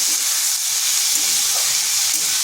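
Potatoes and yardlong beans fry in a pan over low heat, giving a steady, continuous sizzle and hiss that holds evenly throughout with no voices.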